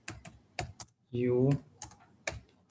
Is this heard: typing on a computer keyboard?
yes